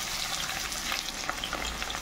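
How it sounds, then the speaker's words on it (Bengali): Chopped onion frying in hot oil gives a dense, close crackling sizzle that holds steady throughout with small pops and no talk. "এবার পেঁয়াজ কুচিটা দিয়ে দিলাম"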